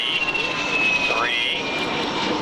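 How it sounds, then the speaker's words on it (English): A classic aircraft passes at an airshow with a loud, steady jet-like roar, its pitch sweeping as it goes by, under voices talking. "There's just a little snippet of classic aircraft"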